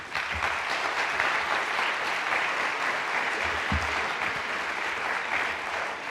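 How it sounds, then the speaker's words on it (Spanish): An audience at a talk applauds steadily to welcome the speaker, a dense, even clatter of many hands lasting several seconds with no voices over it. "le demos todos un aplauso"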